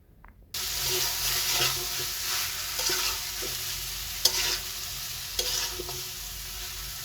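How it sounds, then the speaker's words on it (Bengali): Fried chicken pieces land in a pan of spice masala and are stirred, a loud steady sizzle starting abruptly after a moment of quiet, punctuated by repeated knocks and scrapes of the spoon. "এখন ভেজে নেওয়া মুরগির মাংসগুলো দিয়ে দিব। এখন মশলার সাথে ভালোভাবে মিশিয়ে নেওয়ার পালা।"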